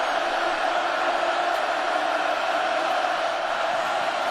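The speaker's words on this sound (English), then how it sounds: "facing a hostile crowd here in Eugene" A hostile football stadium crowd at Oregon in Eugene, facing Oregon State, a constant broad roar of distant massed voices with no breaks.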